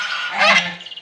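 A black duck gives a single loud, close, nasal honking call that lasts about a second and breaks into a few quick pulses at its end, with nothing else around it.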